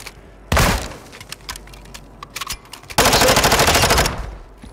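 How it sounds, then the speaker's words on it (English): Gunfire erupts in a Call of Duty: Modern Warfare II Warzone match, a loud close burst followed by scattered shots, then a sustained rapid automatic volley, with no talk over it. "they're shooting at me"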